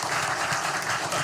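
Applause fills a room during an Arkansas Game and Fish Commission meeting, a continuous wash of many hands clapping at moderate level with no voices standing out.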